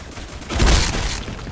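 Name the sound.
gunfire in the video game BlackSquad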